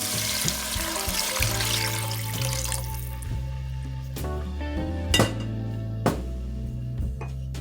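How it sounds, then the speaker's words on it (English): Vegetable broth poured into a pot of collard greens with sauteed garlic, a steady liquid splash and trickle alone, with a few sharp clinks of a pot or utensil. "Next, we're going to add in our vegetable broth."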